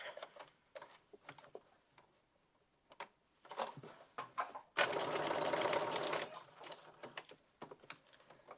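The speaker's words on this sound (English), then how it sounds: "I'm going to stitch this down using 5/8 of an inch seam allowance" A sewing machine stitches a seam on a blazer, first in scattered short taps, then in one quick burst of rapid stitching at close range.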